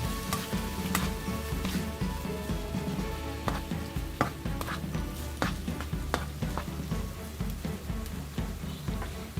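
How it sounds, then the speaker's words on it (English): Blended garlic and onion fry in a pot for a beans and rice stew, a steady soft sizzle with occasional sharp clicks and knocks of a utensil stirring, fairly quiet and close. "Okay, fry up nicely."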